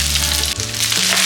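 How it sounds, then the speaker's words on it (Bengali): Rice and vegetables frying in a pan for fried rice, a loud continuous sizzle with crackling, close up. "সব সবজিগুলো আমি আস্তে আস্তে রাইসটা দিয়ে দেবো, হাফ হাফ করে দেবো, সব সবজির সাথে মিশিয়ে নেব"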